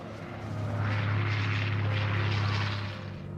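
Steady droning of propeller aircraft engines, alongside jets, that swells to a peak and then slowly fades; an A-1 Skyraider among them.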